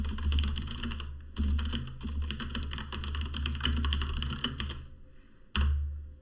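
Fast typing on a computer keyboard, close and alone, with bursts of rapid key clicks separated by short pauses and one last isolated keystroke.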